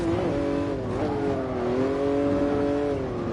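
A Jaguar XJ13 racing engine in GT Sport on the Nordschleife, a loud, steady droning roar heard from the cockpit that rises and falls slightly in pitch as it holds high revs, with no voices.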